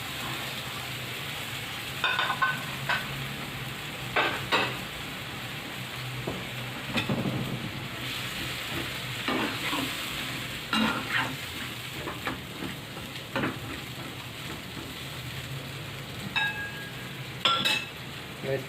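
Carrots and potatoes are stirred in a pan for a vegetable biryani, giving intermittent scraping and clinking strokes over a soft steady sizzle, with brief pauses between stirs.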